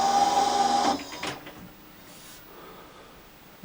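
A Ferguson 3V36 VHS recorder rewinds with a mechanical whirring and steady high whine for about a second, then cuts off, leaving faint clunks and rattles in a quiet room.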